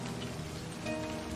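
Steady rain falls in the video game Livber: Smoke And Mirrors, a continuous even hiss of drops on a surface with a faint tonal hum underneath and no voices.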